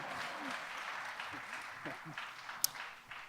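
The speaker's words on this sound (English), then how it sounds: "You can clap. That's okay." Light audience applause at a housing supply summit, fairly faint and scattered, with a few voices murmuring underneath and one sharp clap standing out near the end.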